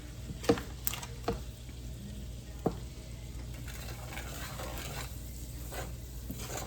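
Onions and flour cooking slowly in butter over low heat give a soft, steady sizzle with a few light stirring knocks near the start, quiet and close, with no talking.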